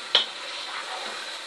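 Small pieces of chicken sizzle in a hot pan over full heat, with a quick metallic stir-scrape at the start, then a steady soft frying hiss.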